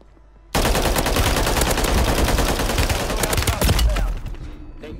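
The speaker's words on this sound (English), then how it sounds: "They shooting at us." Loud, dense gunfire from a shooting video game erupts after a half-second pause and keeps going as a rapid, continuous barrage for about three and a half seconds, then thins out near the end.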